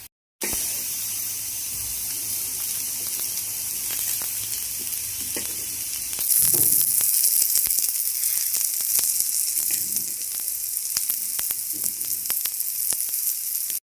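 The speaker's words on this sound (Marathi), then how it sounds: "आता मी टोमॅटो पण 2 मिनटं परतून घेते." Okra and tomato sauté in a hot pan with a continuous bright sizzle, growing a little louder midway as the pieces are stirred, with scattered scraping clicks and no talking.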